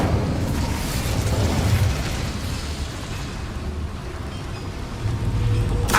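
Blast of the Incendio fire spell in the Hogwarts Legacy video game, a dense, loud rumbling burst that sustains across the whole stretch with roaring low end and a slight swell near the close.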